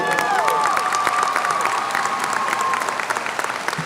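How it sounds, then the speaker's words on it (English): Audience applause at the 2024 Cigarroa High School graduation ceremony, dense steady clapping from a large crowd with some cheering and whistles, loud and sustained throughout before tapering slightly at the end. "How about a bigger round of applause for a perfect attendance student?"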